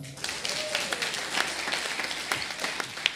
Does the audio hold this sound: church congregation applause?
yes